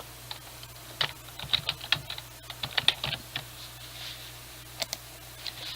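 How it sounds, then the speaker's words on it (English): Password keys tapped on a computer keyboard, heard as irregular bursts of crisp clicks, some clustered quickly and others spaced apart, close and fairly quiet over a low steady hum. "We're going to type in our password."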